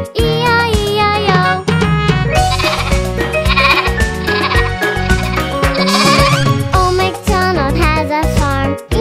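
Sheep bleats are sung and played within a children's farm song, the wavering baa calls riding over a loud, busy musical backing that continues throughout.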